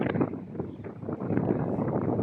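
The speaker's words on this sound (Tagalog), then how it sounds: "Okay guys, lakas ng hangin" Heavy wind buffeting the microphone, a constant low rumble with gusty swells throughout, no clear voices.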